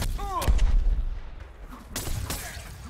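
Sharp gunshots in the game Dauntless crack out twice, one near the start and another about two seconds later, over a busy background of game sounds.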